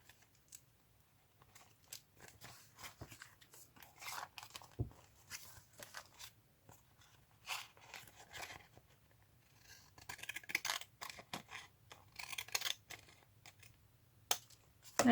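Craft scissors snip around a paper doily: quiet, irregular clicks and crisp paper rustles, close by and faint, with no talking.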